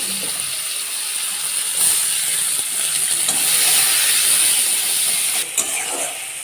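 Onions sizzle in leftover potato-frying oil with five-spice and chillies, a loud steady hiss close by with faint stirring clicks and a brief dip near the end.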